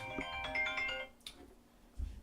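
A phone ringtone chimes a short melodic phrase during a live weather broadcast, fairly clear and close, then cuts off, followed by faint rustling.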